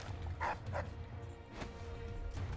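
Dogs barking in the video game Dishonored's survival mode: a few quick, fairly faint barks and yips bursting over a low ambient game background, with no talk.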